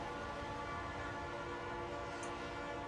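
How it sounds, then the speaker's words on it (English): A train horn blowing in the Trainz Railroad Simulator 2019 game on the Scar Hills Subdivision, a steady, quiet, sustained multi-tone blast with no talking. "I can hear my horn going off."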